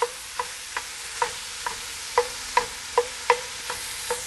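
Ground meat for Bolognese sizzling in a hot pan with a steady frying hiss, punctuated by regular scraping taps as it is stirred and broken up, no voices.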